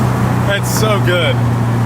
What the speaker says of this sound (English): the HKS valve will literally chirp like that at like 1 PSI of boost